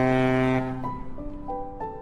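A deep, loud ship horn blasts as a ship leaves port, its long sustained tone stepping down and breaking into a few shorter falling notes over a low rumble.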